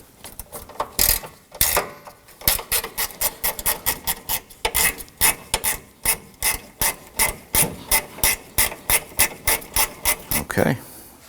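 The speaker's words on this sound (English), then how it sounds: "I'm going to go ahead and use my gear wrench to loosen and remove these" A gear wrench ratchets in quick bursts of sharp clicking strokes while loosening 10mm bolts on a 2018-2024 Toyota Camry 2.5L cooling fan assembly, the rhythmic clicks close and loud with short pauses between runs.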